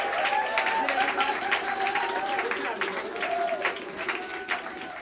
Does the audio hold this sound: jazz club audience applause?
yes